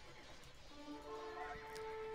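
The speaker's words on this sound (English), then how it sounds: "random horse dying" A horse whinnies as it dies in a Diplo video game, a faint, drawn-out neigh under a quiet game background.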